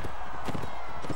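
Horses galloping in circles in the video game Mount & Blade, a quick run of clip-clop hoofbeats at moderate distance with a faint voice underneath.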